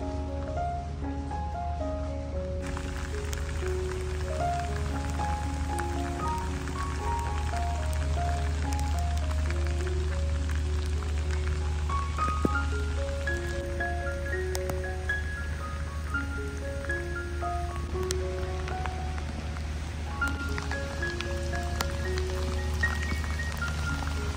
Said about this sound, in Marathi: जबरदस्त पाऊस लागत आहे.